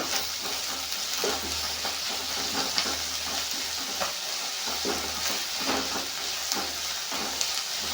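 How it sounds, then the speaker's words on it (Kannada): Masala with chilli paste and salt frying in a pan for masala kadubu, a dense continuous sizzle with a low rumble, punctuated by light stirring taps and scrapes throughout. "ಚಂದಾಗ ಫ್ರೈ ಮಾಡ್ತೀವಿ"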